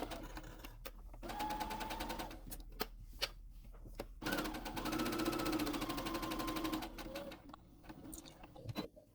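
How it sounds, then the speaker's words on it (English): A sewing machine stitches fabric for carrot-shaped Easter treat bags in a fast, rhythmic needle clatter with a humming motor, running in stretches with brief stops. "Now go ahead and sew everything down just like you see on screen."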